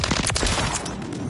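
A rapid burst of video game gunfire crackles in a dense, loud volley of overlapping shots, close and sustained for about a second before easing off.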